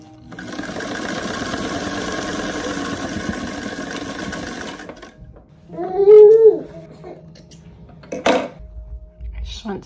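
Home sewing machine stitching skirt panels, a fast steady mechanical whir running for about five seconds, then stopping; afterward someone speaks briefly and small handling clatters follow.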